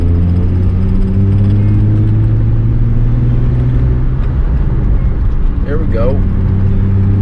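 A Nissan 350Z with a manual gearbox pulls away and accelerates in second gear, a steady low engine rumble heard from inside the cabin with the driver talking briefly over it.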